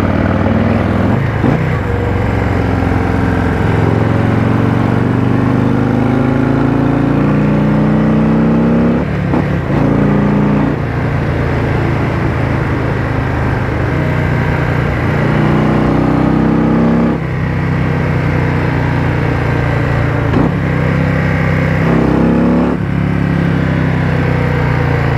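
Harley-Davidson Low Rider ST cruiser being ridden, its V-twin engine droning loud and close, revving up through several gear changes with brief dips between shifts over a long steady run, no talking.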